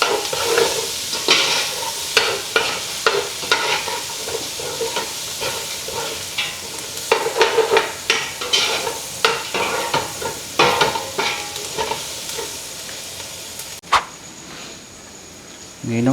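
Garlic frying in a pan while being stirred, with steady sizzling and repeated scraping strokes of a utensil, close by, for bitter melon with pork.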